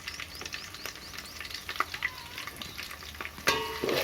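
Ginger garlic paste fries in a pan, a fairly quiet, uneven sizzle with scattered crackles and spatula scrapes, and a louder burst of sizzling and popping near the end.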